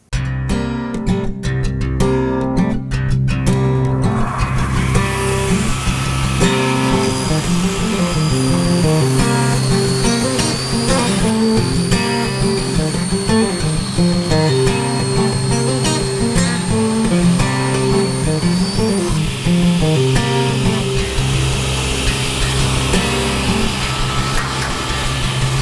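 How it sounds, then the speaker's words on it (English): A Laguna Platinum Series 10 five-function combo machine runs its table saw, cutting tapered table legs with a tapering jig; the motor hums loudly and steadily the whole time, with the cuts layered over the drone. "Now to cut these legs, we're going to use what they call a tapering jig."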